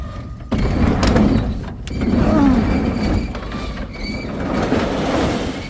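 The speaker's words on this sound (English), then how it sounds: "Gotta get the garage door open." A garage door opens on a snowy winter morning with a loud mechanical rumble and rattling scrape that swells and eases over several seconds, heard up close without talk.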